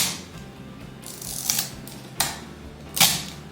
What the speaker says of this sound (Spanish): este es el sonido que hace la cámara al disparar.